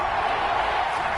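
Crowd noise from an American football video game, a steady broadband roar rising for a big third down, loud and continuous with no distinct voices.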